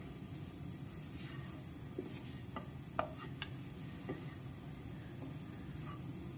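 Grated coconut frying in coconut oil for a Kerala-style egg curry: a soft, steady sizzle continues throughout, with a few faint clicks and taps of a spoon against the pan.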